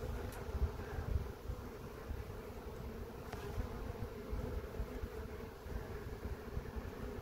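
A caught swarm of honeybees buzzes inside a hive, a dense, steady, low drone at close range with no voices.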